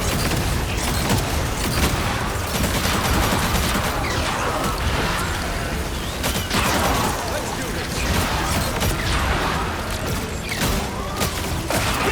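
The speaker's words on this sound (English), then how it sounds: "Rockets, fire! Area, pulse charge, fire!" Rockets and pulse charges firing in the Marvel Rivals video game: a dense, unbroken clatter of shots and blasts with metallic mechanical rattles throughout.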